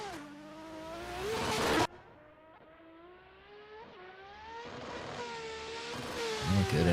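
A drift car during a qualifying run at Pascani revs hard as it initiates a drift, its engine note climbing and wavering at length, with tires squealing loudly near the end.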